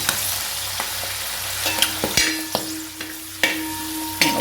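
Chena (elephant yam) pickle with curry leaves being stirred in a pan, steady sizzling frying broken by sharp clicks and scrapes of the spoon against the pan, close and moderately loud, no voices.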